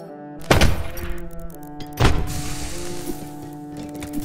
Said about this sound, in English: Yeah, it's a grenade launcher.